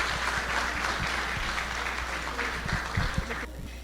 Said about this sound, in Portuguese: Vamos receber com uma salva de palmas Maria Teodora Guimarães